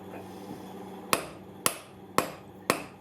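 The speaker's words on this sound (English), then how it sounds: "continue gently tapping" Four light, evenly spaced metallic taps from a hammer seating a hardened washer into an assembly fixture, each a sharp close strike with a short ringing decay over a low background hum, no talking.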